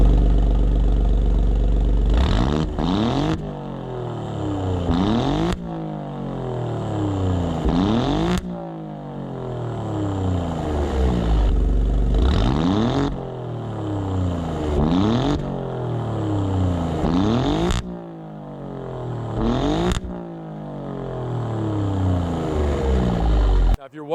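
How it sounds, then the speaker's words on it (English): A tuned Alfa Romeo Giulia Quadrifoglio, pushed to 590 horsepower, revs hard while stationary, its exhaust rising to a scream and falling back about ten times in a row, loud and close, with idle between bursts. "I'll give you some exhaust revs so you can hear that power scream."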